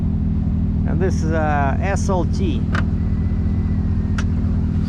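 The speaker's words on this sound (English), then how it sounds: "That's a remote start." A 2023 GMC Yukon SLT idles after a remote start, its engine a low, steady rumble close by, with someone talking over it throughout.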